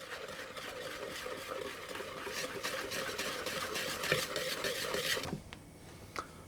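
Flour whisked into a smooth paste for a Boston cream pie filling: quick, rhythmic strokes of a whisk against the bowl over a soft scraping hiss, close and steady, stopping abruptly near the end with a couple of faint clinks.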